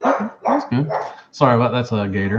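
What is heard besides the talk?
dog barking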